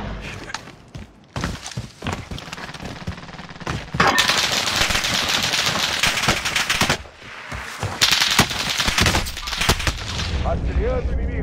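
Dense video-game gunfire from Call of Duty Warzone: rapid automatic bursts and single shots crackle almost continuously, loud and close, with a voice calling out briefly between volleys.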